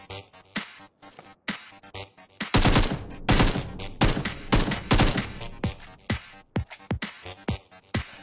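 Rapid automatic rifle fire in the mobile shooter Game for Peace, with bursts of sharp cracks that swell into a loud sustained volley midway before dropping back to scattered shots.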